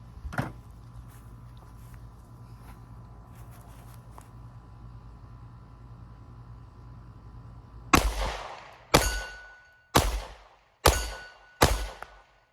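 SIG Sauer P365 X Macro Comp 9mm pistol firing 124 grain American Gunner +P XTP rounds: five sharp, loud shots in quick succession after a long stretch of quiet outdoor background, each report ringing and decaying briefly.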